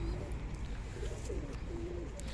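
Imamdeen breed pigeons coo softly, a few low rolling calls set against a steady, noisy background at some distance.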